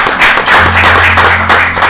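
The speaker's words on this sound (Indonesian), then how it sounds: "Tepuk tangan dulu dong." Loud, close applause fills the room in a continuous patter of many hands clapping, with a low steady hum underneath.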